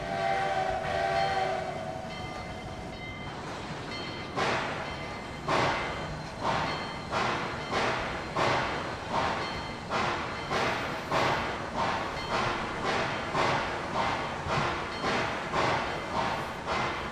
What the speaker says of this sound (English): I hear our other train